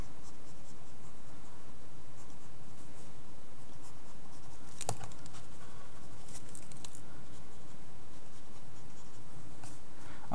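Pencil drawing thin lines on paper for a manga-style head, soft continuous scratching and light strokes close to the microphone, with a few sharper taps and no speech.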